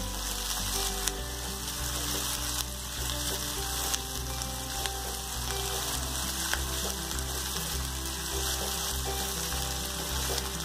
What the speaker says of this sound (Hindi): प्याज को हमें मीडियम आंच पे गोल्डन ब्राउन कलर आने तक भूनना है।